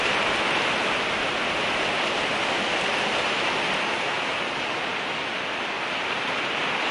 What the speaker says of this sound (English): Gloomy rains.